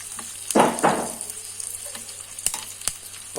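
Cumin seeds dropped into hot oil for a tempering burst into a sharp, loud sizzle, then settle into scattered crackles and pops.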